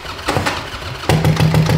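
A custom bobber Harley-Davidson motorcycle engine cranks over in a few uneven bursts, then catches and settles into a loud, steady idle with a low throbbing hum, heard up close with no talking.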